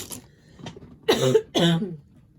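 Two close, forceful coughs in quick succession, loud against a quiet background, with a few faint small noises before them.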